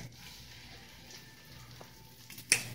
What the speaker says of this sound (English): we're going to put it in a pan with some butter